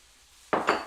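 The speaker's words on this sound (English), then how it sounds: "Chop up the red pepper." Two quick knife chops through a red pepper land on a cutting board, sharp close thuds in fast succession after a near-silent moment.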